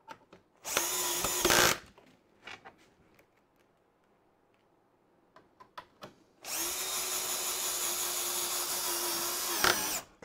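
A power drill drives screws into a drawer cabinet in two loud, close bursts, a short whir then a longer sustained spin, separated by quiet handling clicks and taps.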